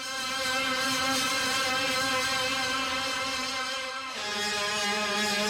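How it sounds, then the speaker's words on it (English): A Polygrid synthesizer instrument patch plays a sustained, rich harmonic tone that shifts pitch near the end, steady and loud with no voices. "Now I can jump to the next polygrid instrument that sounds like this."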